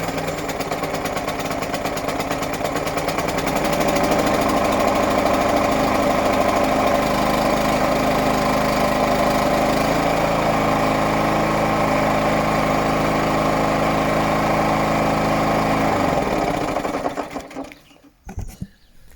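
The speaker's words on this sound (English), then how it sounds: "choke on, engine on," An Atco Suffolk Punch cylinder lawn mower with a Kawasaki engine runs at a steady, loud, rattling idle for about seventeen seconds, then cuts out and goes quiet.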